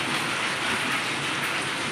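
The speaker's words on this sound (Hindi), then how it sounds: "बहुत तेज, बहुत एकदम से हो गई बारिश।" Sudden heavy rain pours down in Jaipur, a dense, unbroken roar of water hitting surfaces and rushing past, loud and steady throughout with no voices.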